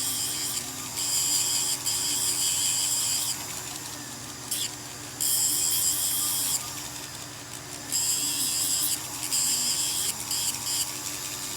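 A small rotary sanding tool whines in on-off bursts while sizing a white gold ring, steady high-pitched buzzing with pauses between passes, close by.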